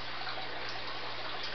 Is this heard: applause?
no